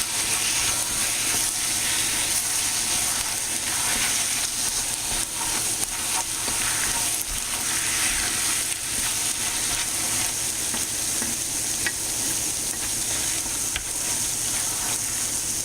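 Taco meat browning in a pan, a loud steady sizzle up close with scraping and clicking from stirring throughout, no voices.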